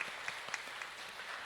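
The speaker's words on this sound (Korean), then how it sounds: "우리 박수로 환영하겠습니다." A church congregation applauds to welcome a new minister at a Sunday worship service, a steady, fairly faint wash of clapping with no talking over it.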